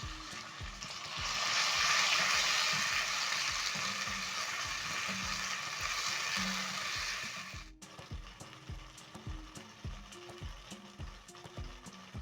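Diced tomatoes, tomato paste and cumin seeds sizzle steadily in a pan with onions, a broad hiss that cuts off and gives way to rhythmic stirring clicks.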